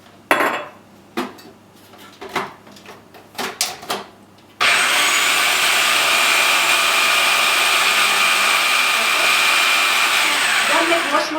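Fresh baby spinach for a dip is ground in a small kitchen blender or food processor: a few clattering knocks of the container first, then a loud, steady whirring motor that runs on without a break.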